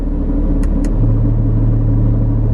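A steady, low Porsche 911 GT3 exhaust rumble idles close by, deepening into a fuller drone partway through, with a couple of brief high clicks early on.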